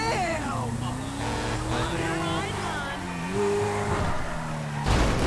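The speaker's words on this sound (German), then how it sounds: "Oh, ich darf jetzt Bus fahren." Bus in the video game Grand Theft Auto V, a continuous engine drone that rises and falls in pitch as the vehicle accelerates and shifts, with someone talking over it throughout.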